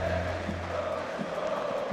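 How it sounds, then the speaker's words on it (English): A large esports arena audience at a Counter-Strike major in Rio roars steadily, a broad wash of cheering and crowd noise held at even loudness throughout. "And of course the crowd cheering"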